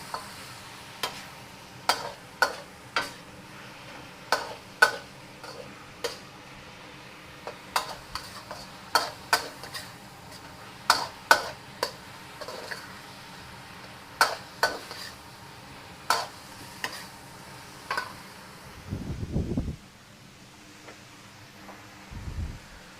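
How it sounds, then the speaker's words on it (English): A spatula clicks and scrapes around a hot pan of pork lo mein in a steady string of sharp ticks over a low sizzle, ending in a couple of duller knocks. "Give it a nice stir."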